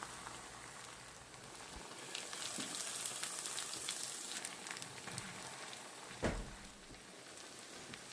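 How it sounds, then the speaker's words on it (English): Cheese crisps on a tortilla in a hot pan, giving a faint, steady hiss with scattered small pops and one sharper crackle near the end. "I want the cheese to crisp up a little bit"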